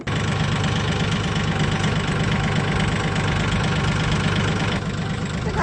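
A farm tractor engine runs loud and close, a steady rough diesel-like chugging that holds level for several seconds with no voices.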